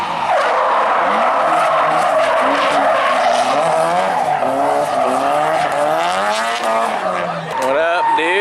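Loud, sustained tire squeal from a car drifting, the screech wavering continuously for about eight seconds with engine revs rising and falling underneath.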